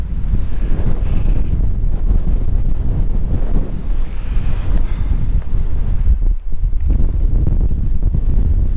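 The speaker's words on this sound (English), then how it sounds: "it is windy as hell." Strong wind buffeting the microphone in a constant heavy rumble at a fence line on a Snowdonia mountain, gusting steadily with no other clear sounds.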